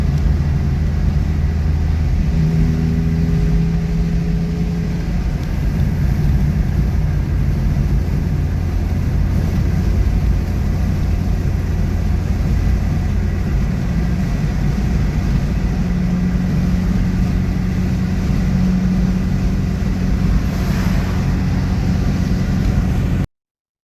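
An old car drives along a road toward a historic town in Goiás, Brazil, its engine a steady low rumble with road noise droning continuously inside the cabin for the whole stretch, no talk heard.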